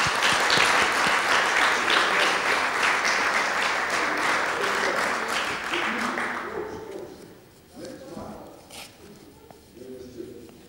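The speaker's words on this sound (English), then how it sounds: "Let's give them one more round of applause." Audience applause at a student business awards ceremony, loud and steady for about six seconds before thinning into scattered claps and murmuring voices.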